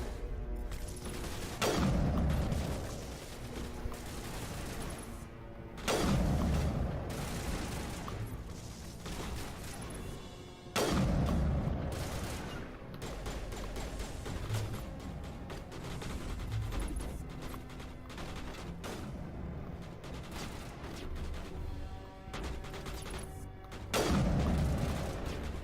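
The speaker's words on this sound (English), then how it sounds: "I threw a grenade." Grenade blasts and gunfire in the video game Mass Effect, several heavy booming explosions at intervals with dense crackling bursts of shots between them, loud and alone with no voices.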